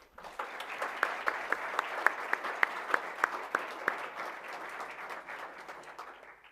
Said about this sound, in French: ils méritent un grand applaudissement de notre part